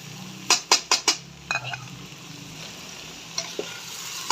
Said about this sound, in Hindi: इसको अच्छे से हिला लेंगे।